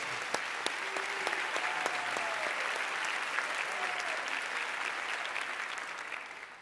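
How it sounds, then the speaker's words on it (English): A graduation ceremony audience applauds, a broad, fairly faint and distant wash of clapping that holds steady with brief voices and tones heard faintly within it. "let's give her a big round of applause"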